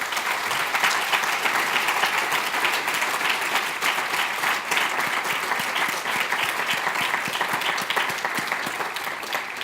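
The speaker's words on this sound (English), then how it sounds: "Can we give them a round of applause?" Sustained audience applause after an on-stage public conversation event, a dense steady wash of many hands clapping for nearly ten seconds at even loudness, with no voices standing out.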